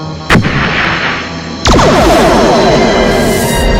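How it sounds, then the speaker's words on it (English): A sharp bang, then a much bigger blast that rolls into a loud, sustained rumble, like a mortar shell exploding nearby, from a Star Trek episode. "That was a big explosion."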